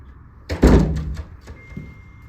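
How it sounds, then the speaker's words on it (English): A door is shut with a single solid thunk and a brief rattle after it, close and fairly loud, heard at a baseball media day. "I'm gonna shut this door"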